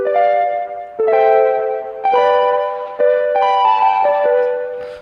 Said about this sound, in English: Yep, that's the sound of that crusty piano